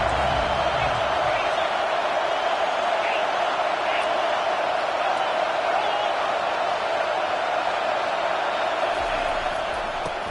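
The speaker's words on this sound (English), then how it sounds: "Decibels rising as the crowd gets behind this defense on third down" Stadium crowd noise swells on third down in a college football video game, Florida State against Ole Miss. A steady, loud roar of the crowd, with faint whoops, carries on without a break.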